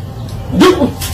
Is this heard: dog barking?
yes